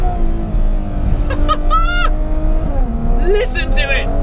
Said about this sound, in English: Did you hear that cog shift and the downshifts?